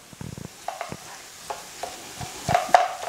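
Beef mince fries in a pan and is stirred, with scattered spoon scrapes and clicks over a soft sizzle, each stroke short and close, and no talking.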